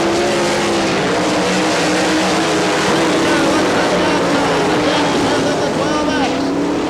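Sprint race cars of the All Stars series racing on the dirt track at Wichita, Kansas, in 1998, a loud continuous engine roar of a pack at full throttle with a race announcer talking over it.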